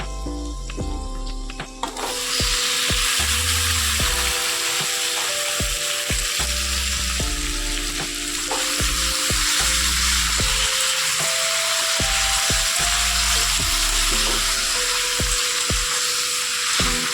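Marinated duck meat hits a pan of browned onions with a sudden loud sizzle after a short quieter start, then steady intense frying continues close by with occasional stirring scrapes.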